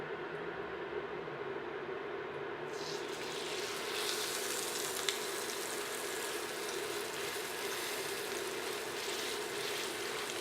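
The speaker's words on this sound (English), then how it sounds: "Watch when you hear the sizzle." A ribeye steak drops into a hot oiled pan and a loud, steady hiss of sizzling rushes in a few seconds in, continuing evenly up close without speech.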